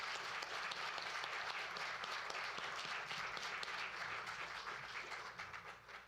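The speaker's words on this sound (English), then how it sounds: "please, again, a round of applause for our speaker tonight" An audience applauds a speaker at an evening talk on reconciliation and allyship, dense sustained clapping from many hands that holds steady before thinning slightly at the end.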